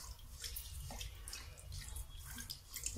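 Water pours steadily from a large cup into a pan of sweet potatoes being prepared with sugar, a soft continuous splashing and trickling at low volume.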